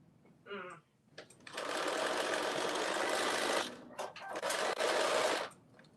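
Sewing machine stitching in a live sew-along session, running in two long steady bursts with a short pause between, preceded by a brief spoken voice.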